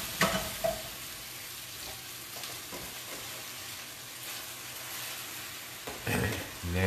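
Spinach sautés in a pan with a constant close sizzle and hiss, with a few sharp scrapes of stirring near the start and end.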